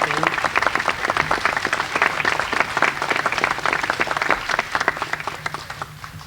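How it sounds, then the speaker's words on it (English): Steady, dense applause from an audience at a university visual arts center dedication ceremony, sustained at a fairly loud level and tapering slightly toward the end. "applause."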